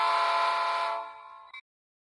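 A long, steady horn blast from a model train that fades away, then a brief second toot before silence.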